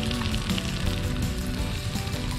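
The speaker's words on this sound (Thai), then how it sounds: "ทอดไข่สุกไหมครับ น้ำมันไม่ร้อนครับ" An egg frying in oil in a pan, a loud, continuous close-up sizzle with steady crackle throughout and no talking.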